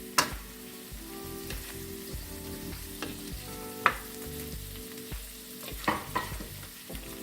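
Carrots and green beans fry and sizzle in a pan of sautéed seasoning, with a steady close hiss broken by occasional scrapes and stirring clatter, no voices.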